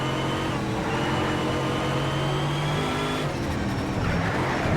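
An exotic race car engine in the Need for Speed: SHIFT racing game revs and drones loudly through a lap, the pitch holding steady and then dropping with a gear change near the end, alone without talk.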